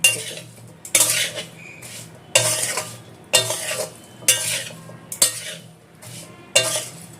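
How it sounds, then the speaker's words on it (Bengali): Raw green mango pickle being mixed with spices, oil and salt in a wok, heard as about seven rhythmic scraping strokes of a spoon against the metal, close and clear with no talking. "ভালো করে মিশিয়ে নিতে হবে, যাতে মশলা, তেল, নুন সব কিছু ভালো করে মিশে যায়"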